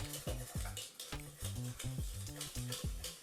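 Brisk whisking of dry ingredients with cinnamon and cardamom in a bowl for vegan spice brownies, close up: quick rhythmic scraping strokes with a metallic clink, steady and unaccompanied by talk.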